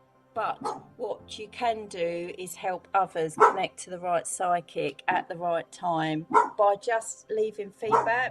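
A dog barks and yips at a teenage boy just out of bed in a home, the barks mixed in beneath someone talking continuously.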